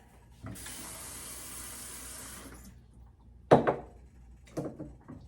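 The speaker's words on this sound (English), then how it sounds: "we're gonna put water in here" Water pours into a small cup in a steady two-second trickle, followed by a few brief clinks and knocks as the cup is handled; no one speaks.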